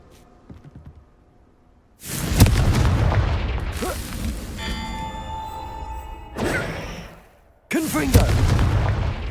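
The Confringo fire spell from Hogwarts Legacy detonates in loud booming blasts, a heavy explosion rolling on for seconds, a second burst, then another strong blast, after a quiet opening with faint thuds.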